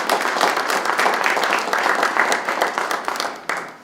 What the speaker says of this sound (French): On applaudit le courage du monsieur qui a pris son téléphone pour nous appeler.